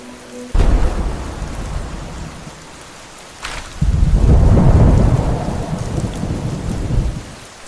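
A thunderstorm brings two heavy, booming rolls of thunder that rumble on for seconds while steady rain hisses down throughout.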